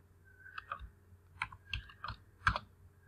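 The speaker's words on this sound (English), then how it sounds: "you go to Google, type CMap," Keys on a computer keyboard clatter in short irregular clusters of soft clicks, close and fairly quiet, with no voices over them.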